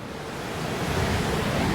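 Ocean surf rolls in at a Bali surf beach, a steady broad wash of breaking waves with wind rumble on the microphone, fairly loud and unbroken, no voices.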